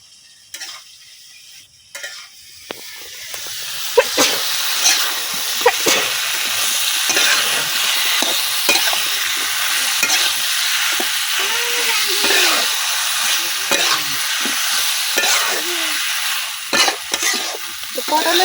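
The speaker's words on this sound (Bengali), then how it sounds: "পটলের সাথে মশলাটা খুব ভালোভাবে আমি মিশিয়ে দিচ্ছি।" Pointed gourd being stirred with spices in a frying pan, a continuous loud sizzle with scraping and clinking of the utensil against the pan, repeating irregularly.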